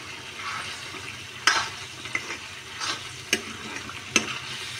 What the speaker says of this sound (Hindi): तो हमें इसे चम्मच चलाते हुए कंटिन्यू भून लेना है।